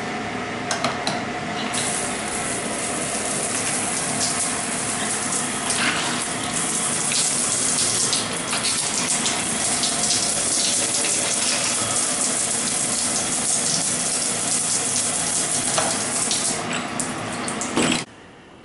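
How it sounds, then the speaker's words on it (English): A bathroom shower in a Cancun rental villa runs steadily, a loud continuous spray and gush of water lasting the whole stretch before stopping abruptly at the end. "I got some footage of the shower running earlier when it wasn't covered in stuff."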